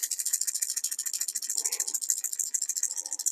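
A bass fishing lure rattles with continuous bright sound and rapid metallic clicking, steady and close, with a brief lower-pitched shake partway through.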